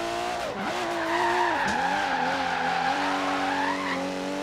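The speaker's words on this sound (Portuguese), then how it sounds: "Mas eu gosto de fazer drift assim nele aqui" A car drifts in the racing game Forza Horizon 3, producing a sustained tire squeal with rising and falling pitch over the engine note, loud and continuous for a few seconds.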